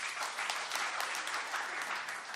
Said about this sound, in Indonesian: Tepuk tangan yang meriah bagi Tuhan.